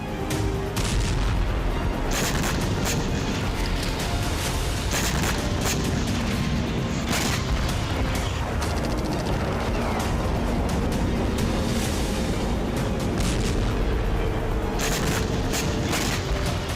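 A rapid barrage of loud booms and blasts, one after another with barely a pause, dense and continuous throughout.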